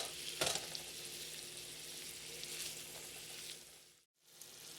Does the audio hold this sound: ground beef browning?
yes